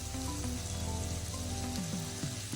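Tomatoes fry with salt in a hot pan, giving a steady close sizzle throughout with faint scraping or stirring touches and no talking.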